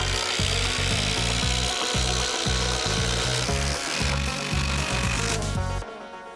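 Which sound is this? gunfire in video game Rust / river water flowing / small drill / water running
small drill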